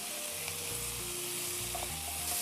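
Potato masala stirred in a hot frying pan, with a steady close sizzle of frying under repeated scraping strokes of a spoon across the pan, loud and continuous with no talk.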